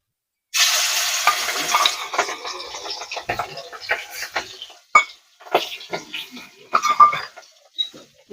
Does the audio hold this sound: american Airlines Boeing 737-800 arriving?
no